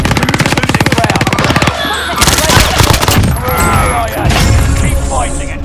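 Heavy gunfire and explosive impacts from a precision airstrike in Call of Duty: Warzone Resurgence, a rapid machine-gun-like burst at the start giving way to dense, loud blasts and crackling shots with some game voice chatter mixed in.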